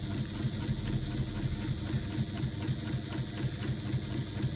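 A sewing machine stitches down a fabric strap panel, running steadily with a fast, even mechanical patter close up and no voices.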